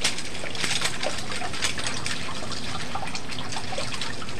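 Tap water runs steadily while dishes are washed by hand with gloves during winter, a continuous close splashing hiss with small drips and clinks and no talking.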